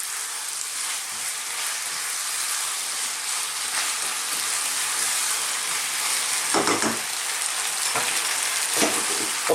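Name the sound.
chili chicken sizzling as it is flipped in pan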